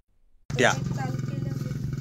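A leopard trapped in a cage in a village gives a sudden, close, loud roaring growl after half a second of silence, then holds a harsh pulsing rumble to the end.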